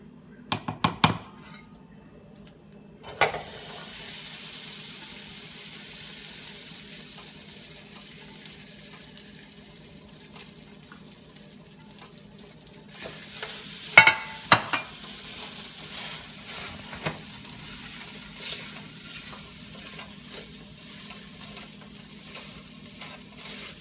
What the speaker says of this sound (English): Okay. I've got a big pan and I have it on medium and it's warm and ready, so I'm going to start cooking my tofu.